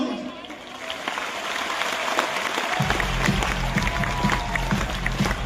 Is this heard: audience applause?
yes